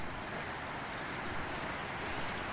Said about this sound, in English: That rain's well and truly set in.